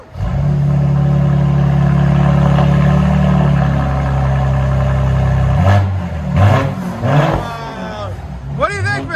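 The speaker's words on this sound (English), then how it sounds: "Now you can hear the turbo." Mercedes-AMG GLE 43 with a 3.0L bi-turbo engine and straight-pipe exhaust drones loud and steady for about five seconds, then drops to a quieter rumble as people talk and cheer excitedly over it.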